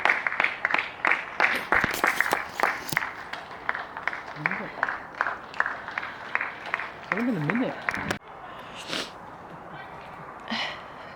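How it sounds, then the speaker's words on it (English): Outdoor crowd noise with claps, whoops and scattered shouts amid fireworks, some voices rising in pitch, sounding fairly close before thinning out into quieter distant cheers. "There's quite a lot of people out cheering and there's a lot of fireworks going on."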